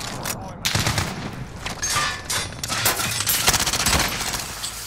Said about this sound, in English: He's got that thermal LMG.